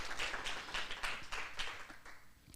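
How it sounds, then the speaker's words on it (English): Audience applause at a motivational masterclass event, a steady wash of many hands clapping for over two seconds, moderately loud, ending with a sharper burst. "So I want to applaud each and every one of you"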